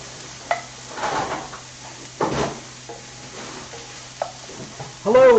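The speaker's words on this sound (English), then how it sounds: "I've got a little bit of onion and apple sauteing or, softening up in a pan." Onion and apple sauté in a pan, giving a soft, steady sizzle close by, with occasional knocks and clatter of kitchen utensils and a louder scrape near the end.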